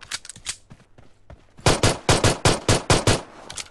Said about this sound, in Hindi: लेकिन एक पिस्तौल से ही फायर कर दिया